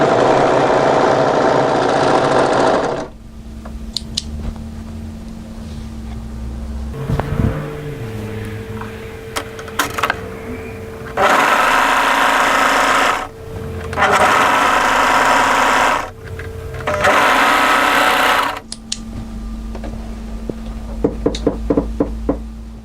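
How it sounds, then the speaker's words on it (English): An overlocker serger finishes a seam on a kimono kaftan in several loud whirring bursts separated by short pauses, with knocks and clicks from the machine in the quieter gaps. "just overlock, taper your overlocking off"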